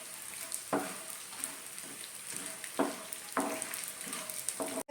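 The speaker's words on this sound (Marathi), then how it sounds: "थोडा थोडा डिंक तुपामध्ये घालून मी इथे तळून घेणार आहे" Edible gum (dink) frying in very hot ghee: a continuous bright sizzle and crackle with several sharp spoon or ladle knocks spaced through it, close up and steady, with no voices.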